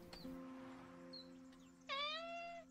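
A cat meowing inside the video game Copycat, with a short high mew early and a louder, clear harmonic meow near the end over a steady game-music hum.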